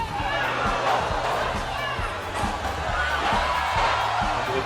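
Boxing arena crowd at a Pacquiao versus Algieri fight, a steady roar of cheering and chatter filling the hall, with sharp thuds recurring beneath the noise.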